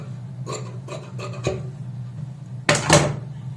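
Scissors cut fabric after stitching a kurti neckline, giving a few short snipping and rustling strokes followed by a louder scraping cut near the end, close by.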